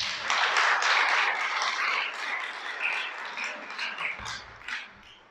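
A congregation at a church service applauds the Creator, a loud burst of many hands clapping that gradually thins and fades out near the end.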